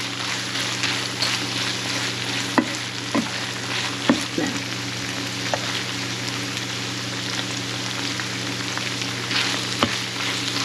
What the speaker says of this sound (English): Mix the sugar up.